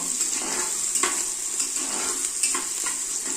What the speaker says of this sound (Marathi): पहिल्यांदा आपण कांदा घेऊया भाजून